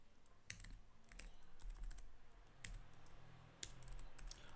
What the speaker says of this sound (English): I'm typing the same word over and over again